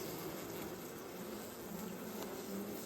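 A dense, steady drone of many honeybees buzzing close by in a hive, continuous and even with no voices.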